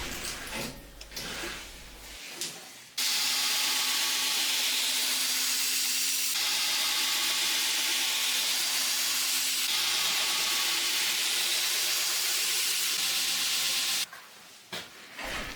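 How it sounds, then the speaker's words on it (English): Belt grinder running a cork belt against a bowie knife, blending the two bevels of a convexed edge: a loud, steady hissing grind that holds for about eleven seconds, with quieter workshop noise before it starts and after it stops. "Now I switch to cork belt to blend those two bevels together."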